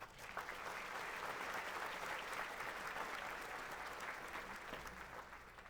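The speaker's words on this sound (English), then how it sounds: "Can we all give her a big round of applause?" An audience at a children's advocacy event gives a round of applause for a speaker, a steady, dense wash of clapping from a sizable crowd, fairly quiet, tapering slightly at the end.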